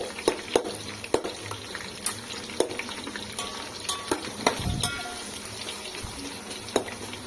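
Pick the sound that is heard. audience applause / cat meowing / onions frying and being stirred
onions frying and being stirred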